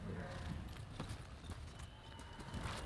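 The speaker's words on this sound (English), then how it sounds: "Horse!" A horse galloping in Ghost of Tsushima, with a rapid run of hoofbeats under a dense game soundscape, steady and fairly loud across the whole stretch.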